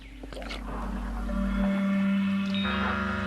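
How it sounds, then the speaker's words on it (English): A giant earthworm gurgles as it pushes through groundwater pooled in its enormous underground tunnel, a low sustained watery bubbling with a steady hum and shifting tonal whine, close and continuous. "The gurgle is simply the sound of the worm pushing through the groundwater that has accumulated in its enormous tunnel."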